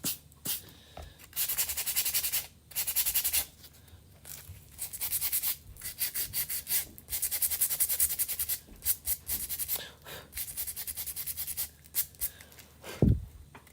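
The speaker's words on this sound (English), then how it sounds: "we could try to sand a little bit of that away" Sandpaper rubbing midnight blue chalk paint off a whitewashed craft surface for a nativity piece, heard as close, steady back-and-forth scratchy strokes in bursts with brief pauses between them.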